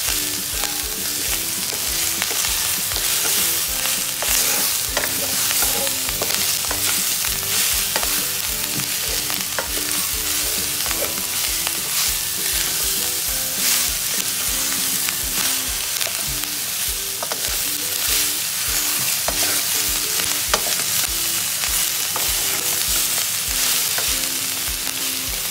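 Mixed vegetables with green capsicum sizzle in a little oil, a loud continuous frying hiss broken by repeated spatula scrapes and clinks against the pan, with no talking.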